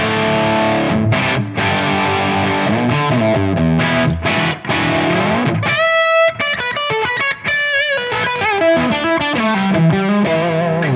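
Electric guitar through a Tonex amp capture on the first input at highest gain, first ringing distorted chords, then tight, punchy palm-muted riffing with brief stops, loud and up front.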